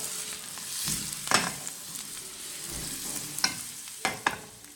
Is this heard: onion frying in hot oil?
yes